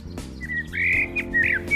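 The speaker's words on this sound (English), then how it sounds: "capture part of the nesting process of a pair of blackbirds who decided to make their home in a living wall on our nursery" Blackbirds nesting in a living wall at a plant nursery, giving short high chirps and tweets in quick succession over a steady low background hum, close and clear with no talk.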